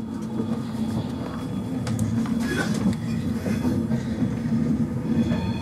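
Inside a Class 390 Pendolino express passenger train running from Liverpool toward Stafford: a steady, continuous low rumble and rattling of carriages, with occasional faint squeals and clicks.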